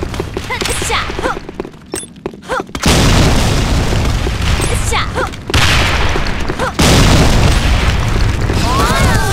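Grenade blasts in the shooter game Sudden Attack hit as heavy booming bursts, with loud sustained rumbling stretches and gunfire, while voices talk over the game sounds.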